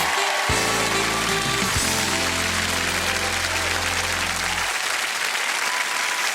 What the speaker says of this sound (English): let's have applause for Steve Edward.